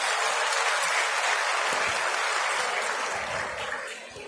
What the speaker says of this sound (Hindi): जोरदार तालियां भारद्वाज जी